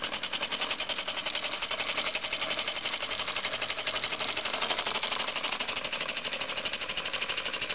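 A small first-built model engine runs on compressed air from a small compressor, a fast, even stream of close mechanical chuffs and clicks continuing without pause.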